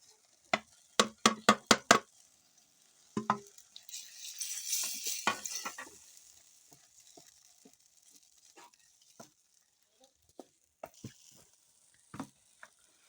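Small dried omena (dagaa) fish tipped into a ready sauce in a pot over a village cooking fire: a few sharp clatters, then a burst of loud sizzling that fades into a soft simmer with occasional light taps, no talking.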